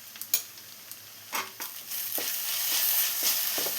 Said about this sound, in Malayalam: ഇനി ഇതിലോട്ട് നമുക്ക് ഒരു 1/2 table spoon ginger garlic paste ചേർത്ത് കൊടുക്കാം.